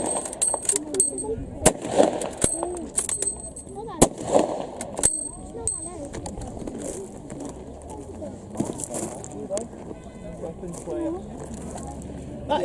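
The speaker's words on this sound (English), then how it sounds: "That is basically how a K98 sounds." K98 rifles fire five rounds in rapid succession outdoors at a historical reenactment at Blaenavon ironworks, giving sharp loud cracks in an irregular volley, followed by quieter outdoor ambience with birds.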